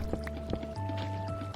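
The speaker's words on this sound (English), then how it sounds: "load some water here" Water is placed in Minecraft, giving a short, close liquid splash and gurgle over the steady tones of game background music.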